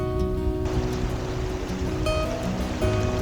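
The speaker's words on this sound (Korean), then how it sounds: "어제 비가 내려서인지 강물이 제법 흐릅니다." Upper Seomjin River in spring, swollen after a day of rain, gives a steady, broad rushing wash of flowing water, heard close and fairly loud with faint tonal sounds layered over it.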